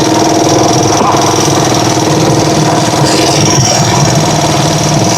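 A Rusi Chariot 175 tuk-tuk motorcycle engine runs steadily on a muddy road, a loud, close, continuous rough drone with a faint voice mixed in.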